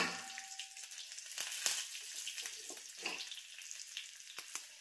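Cumin seeds, garlic and curry leaves sizzle steadily in hot oil with a bright, crackling hiss and a few sharper pops as they hit the pan, close and alone without any talk.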